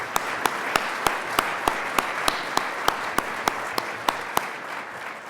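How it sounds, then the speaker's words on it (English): An audience at a real estate competition event applauds its sponsors with sustained crowd clapping and a sharp, regular clap rhythm over the top. "Let's show our appreciation with a round of applause for all of our sponsors."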